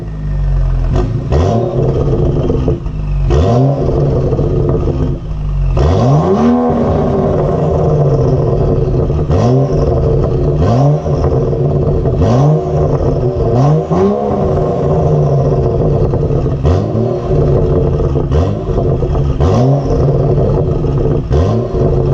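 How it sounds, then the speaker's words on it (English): A BMW 335i N55 fitted with a VRSF catless downpipe and Corsa performance exhaust revs repeatedly, loud and close, each throttle blip rising sharply then falling back to a steady idle drone between pulls. "quick sound clip of what VRSF catless downpipe and the Corsa performance exhaust sounds like"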